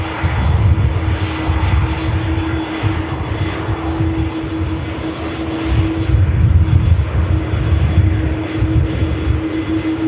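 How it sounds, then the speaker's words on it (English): General Electric CF6-powered Airbus A330 airliner at Manchester Airport, bound for Bridgetown, Barbados, with a loud, steady engine roar and a low rumble that swells and eases, with no talk over it. "Awesome CF6 powered 330. Flight 931 to Bridgetown, Barbados."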